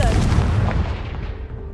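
A Confringo explosive spell blast in Hogwarts Legacy, a single heavy boom with a rumbling low tail that decays over under two seconds, loud and close.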